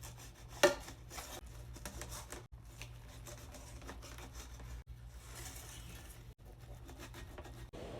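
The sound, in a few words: knife cutting seared egg into strips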